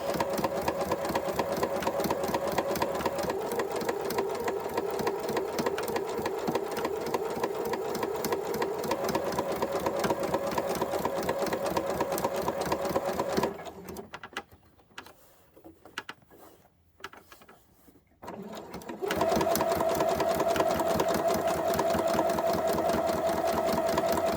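A sewing machine stitches around the edge of a round fabric placemat, running steadily and close for over ten seconds, briefly pausing and slowing as the fabric is turned, then resuming at a constant hum.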